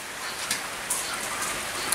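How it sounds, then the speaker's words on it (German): Steady rain falls outdoors at a grill hut building site, a constant soft hiss with scattered louder drops pattering on nearby surfaces, and no voices. "Tja, es regnet immer noch."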